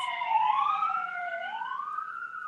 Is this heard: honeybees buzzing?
no